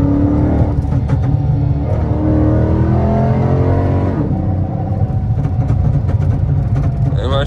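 An AWD Dodge Charger R/T accelerates hard from about 30 mph, a loud, steady engine roar with rising harmonics building for several seconds and then dropping back, heard from inside the car with a voice talking over it.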